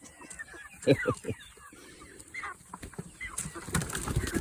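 Several Rainbow Ranger chickens cluck and squawk close by in short bursts, with rustling and scuffling noises toward the end.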